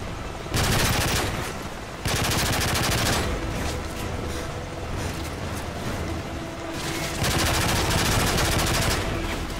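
Loud automatic gunfire from the Call of Duty: Modern Warfare 3 campaign, with dense rapid bursts that start, break off briefly and resume, close and continuous across the stretch.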